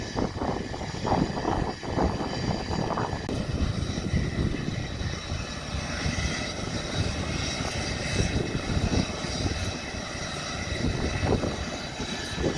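DC-10 water bomber air tanker at the Pocatello air tanker base in Idaho, a steady, loud jet engine roar held throughout from nearby on the ramp, with a whining tone over the rumble.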